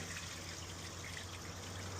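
An RV's black water tank draining through a hose on a Ford F-550 Super Duty camper, a faint, steady gurgling trickle with a low constant hum underneath, no voices.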